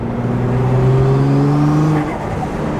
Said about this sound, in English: Let's see what kind of turbo sounds we can get out of this thing.